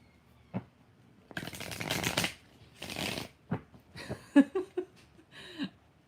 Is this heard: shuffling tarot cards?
yes